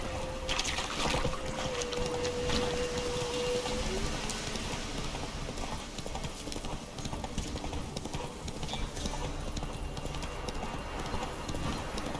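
A horse's hooves clip-clop in a steady rhythm in The Witcher 3, close and clear over a constant rain-like hiss. A brief tone sounds early on, and there is no talk.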